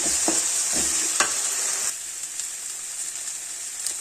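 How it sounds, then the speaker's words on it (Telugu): A paste of ginger, coriander, garlic and tomato fries for a dried fish and drumstick curry, hissing loudly in the pan. A few spoon knocks and scrapes come early, then the sizzle settles into a steadier, slightly quieter crackle. "అల్లము కొత్తిమీర ఎల్లుపాయ టమాటా అండి పేస్ట్ వేసి దీన్ని కొంచెం బాగా ఫ్రై చేద్దామండి"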